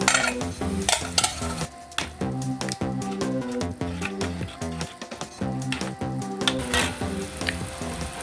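Ketchup is stirred into a simmering sauce in a pan, giving a steady wet sizzle with repeated scraping and sloshing strokes of a utensil at a regular rhythm, close and fairly loud, with background music playing.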